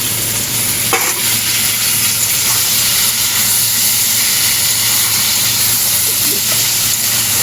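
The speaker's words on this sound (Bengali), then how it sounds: "দিয়ে এবার যতক্ষণ না টমেটো নরম হচ্ছে এইভাবে ভালো করে কষতে হবে" Chopped tomatoes sauté in a hot pan while being stirred, a loud, steady sizzle and hiss running throughout with occasional scraping clinks from the spoon.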